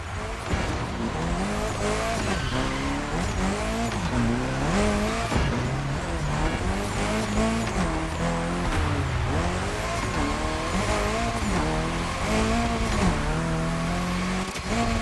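Toyota Supra Ryujin Edition drifting in The Crew Motorfest, engine droning and rising in repeated revs with sustained tire squeal layered throughout, loud and continuous with no talk.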